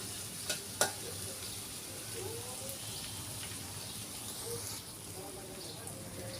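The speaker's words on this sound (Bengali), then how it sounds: "পেঁয়াজগুলো আমি লাল লাল করে নেব, লাল লাল করে ভেজে নেব" Finely chopped onions fry in oil until browned, giving a steady, dense hiss of sizzling close by, with a couple of sharp clicks early on and a voice faintly underneath.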